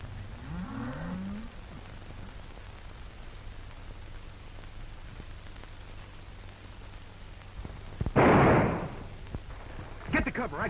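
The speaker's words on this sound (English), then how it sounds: "And they must be my cattle." On a ranch in a 1930 film, cattle give a brief low moo at the start. A steady hiss follows, with a loud noisy burst and scattered knocks later on.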